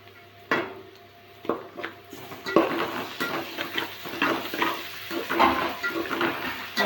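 Onion with ginger and garlic sautéed in a pan: intermittent spatula scrapes and knocks against the metal over a soft sizzle, close up, with no talk.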